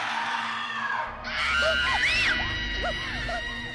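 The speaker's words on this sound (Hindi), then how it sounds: "कमरे में जोर जोर से चीखें सुनाई देने लगी" Screaming in a horror story: wavering, rising and falling shrieks layered over a rumbling, eerie backdrop, loud and close, several overlapping cries building after a brief dip.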